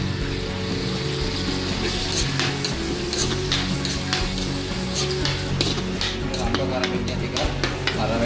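Ginger and garlic stir-fried in hot oil give a loud, dense, continuous sizzle up close, with scraping and stirring clatter running through it.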